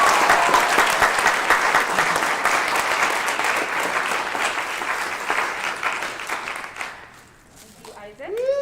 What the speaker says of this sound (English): So I'd really just like to give them a big round of applause.